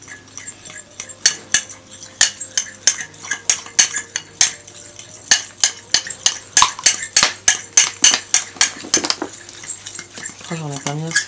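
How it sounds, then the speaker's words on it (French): A fork stirs a face mask mixed with a little water in a bowl, making rapid, rhythmic clinks and scrapes against the bowl that quicken midway; a brief voice sounds near the end. "Du coup, faut mettre un tout petit peu d'eau, d'abord, et tu mélanges."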